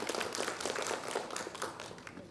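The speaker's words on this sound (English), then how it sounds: "Let us welcome them once again with an enthusiastic round of applause." An audience at a Nagaland listener festival session gives a short, dense round of applause, an even wash of clapping from start to finish with no voices over it.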